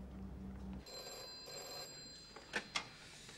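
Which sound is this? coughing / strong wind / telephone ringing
telephone ringing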